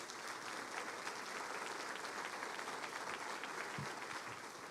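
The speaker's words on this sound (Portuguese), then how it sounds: "nós vamos aplaudir forte esse nome" A church congregation applauds during a service, a dense, steady wash of many hands clapping that continues unbroken for several seconds, heard faintly and at some distance.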